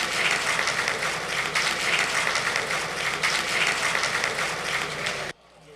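A crowd applauds to welcome broadcaster Aftab Rizvi on stage, a full, steady roar of clapping that continues for several seconds and then cuts off abruptly into quiet room tone.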